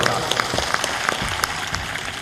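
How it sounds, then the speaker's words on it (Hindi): Audience applause at a spiritual discourse event, a steady dense wash of clapping from a crowd with scattered sharper claps throughout, fairly loud and close. "ताली बजा दो इनके लिए जोरदार"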